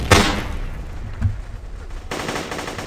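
Gunfire in the blocky shooter GunCraft: a loud burst opens, a dull thump follows about a second later, then a dense crackling volley takes over toward the end, with no talking.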